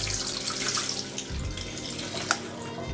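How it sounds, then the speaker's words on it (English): Water from cooked lentils being strained into a sink, a steady rushing pour with a few small splashes and a brief clink near the end, heard close and alone. "we're going to go ahead and strain the water from the lentils"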